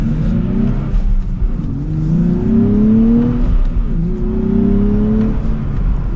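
A 2024 Nissan Z accelerates from inside the cabin, its engine droning loud and close as the revs climb in several smooth rising pulls with brief dips at each gear change.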